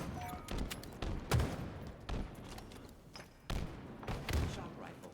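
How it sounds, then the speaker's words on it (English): Rapid bursts of Halo Infinite shock rifle fire in a multiplayer match, sharp loud cracks in clusters with pauses between volleys. "Shock rifle."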